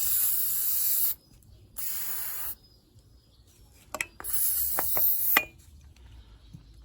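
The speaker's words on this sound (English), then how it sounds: "Next, apply some penetrating oil to help you." Penetrating oil sprays in three sharp hissing bursts onto a rusty front control arm bushing of a 2014 Kia Sportage 2.0 CRDI, close and loud, separated by quiet gaps with a few small metallic clicks.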